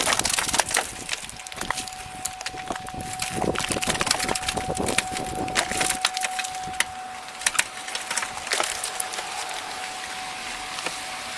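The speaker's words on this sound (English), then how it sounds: "A lot of this glass will probably come flying down." Car window glass shattering and crashing down during a police traffic stop, a dense burst of sharp cracks and splintering clatter spread across several seconds, with a steady electronic tone running underneath.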